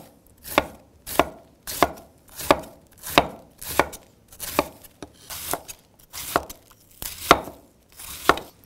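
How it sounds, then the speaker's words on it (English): A knife slices cabbage thinly on a cutting board in steady, evenly spaced strokes, about a dozen crisp chops, close and clear with no talk. "I'm just gonna come through and slice it pretty thin."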